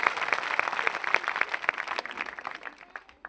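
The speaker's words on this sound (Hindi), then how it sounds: "जोरदार ताली बजा के प्रभु को धन्यवाद दीजिए" A church congregation at a New Year festival bursts into vigorous applause, a dense wash of many hands clapping with a rhythmic pulse, gradually thinning out toward the end.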